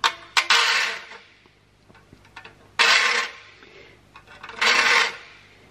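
A file sharpens the teeth of a rusty crosscut handsaw in three separate rasping strokes, close and distinct, with small taps and clicks between them.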